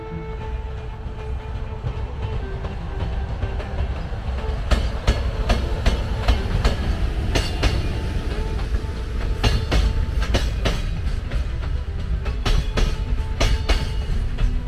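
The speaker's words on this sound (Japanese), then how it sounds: "その電車が来るたんびにねあの電車来たよっていう" A train passes close by a park under development in Okayama, a steady loud rumble of wheels on rail with repeated clickety-clack joint clicks throughout, no voices.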